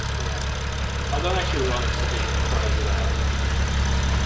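A BMW M135i fitted with a VRSF catless downpipe idles steadily with a low, throaty rumble throughout, while someone speaks briefly over the engine.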